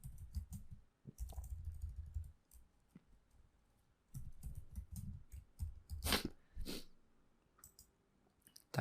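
Keys clatter on a computer keyboard in quick, uneven bursts of close clicks, separated by short pauses, with no voices over them.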